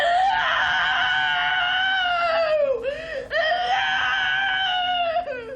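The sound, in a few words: people screaming in primal therapy session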